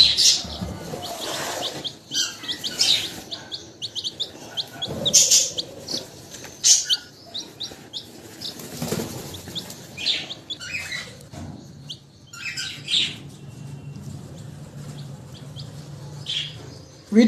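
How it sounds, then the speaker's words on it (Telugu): Pet birds being released into a rooftop garden aviary give bright, scattered chirps and tweets with bursts of wing flapping, fairly close and intermittent across the stretch. "ఇప్పుడు దీన్ని మనము మన బర్డ్స్ ప్యారడైజ్లో వదులుదాం"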